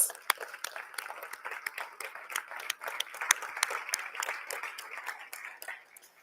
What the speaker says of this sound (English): I think that deserves a good round of applause